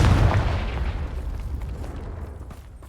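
A Confringo fire spell from the Hogwarts Legacy video game bursts with a loud, deep boom that opens the clip and slowly rumbles away over the next few seconds, heard alone.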